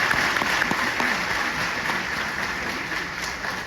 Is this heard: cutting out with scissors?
no